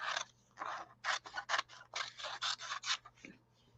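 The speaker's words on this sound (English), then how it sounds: "Okay, so then we can just cut this. Okay. Let's cut this apart." Scissors snip through paper strips for a mixed-media journal, a quick series of about a dozen crisp, close cuts in uneven bursts, with no talking.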